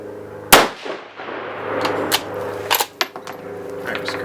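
One sharp, loud rifle shot from a 6mm ARC firing 87gr Hornady V-Max rounds, a crisp crack with a short decaying tail, followed by faint clinks and small handling knocks.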